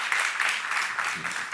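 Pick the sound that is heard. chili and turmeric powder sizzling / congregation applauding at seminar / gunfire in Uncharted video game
congregation applauding at seminar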